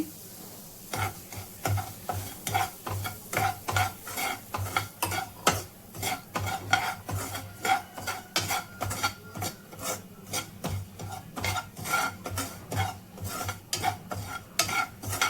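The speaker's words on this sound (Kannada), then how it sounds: "ಅದಕ್ಕೇನೆ ನಾನೀಗ ರವೆ ಹಾಕಿ ಹುರಿತಾ ಇದ್ದೇನೆ" Semolina roasting in ghee in a pan for mango sheera, with rhythmic, repeated scraping strokes of a spoon against the pan over a faint sizzle, close and steady, no voices.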